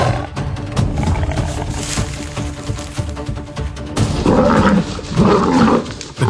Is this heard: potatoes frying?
no